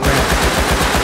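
Rapid automatic gunfire in the survival video game Rust, loud and continuous bursts of shots with a fast regular rhythm, close by and with no talk over it.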